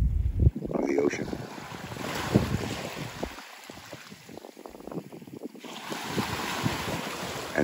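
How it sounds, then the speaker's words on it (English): Ocean waves wash against the shore near North Sydney before sunrise, a steady surf rush with heavy wind buffeting the microphone, continuous and moderately loud with no talk. "I'm going to leave you right here in this moment with the sound of the ocean."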